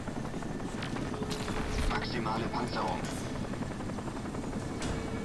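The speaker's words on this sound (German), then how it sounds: "So, wir haben da einen Hubschrauber." A helicopter in the video game Crysis drones with a steady rotor wash beneath gunfire-like clatter, while someone talks over it and a synthetic game voice announces suit modes.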